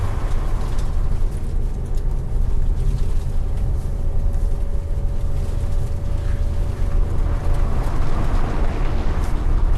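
Inside a Mazda Miata NC with the hardtop fitted, loud, steady road and engine rumble fills the cabin while driving. The dense, unbroken roar holds constant throughout.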